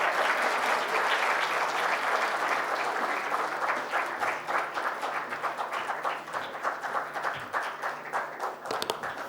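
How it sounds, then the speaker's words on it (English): Spontaneous applause from a conference audience, full and loud at first, then thinning into individual claps that gradually taper toward the end. "Thank you for this spontaneous applause."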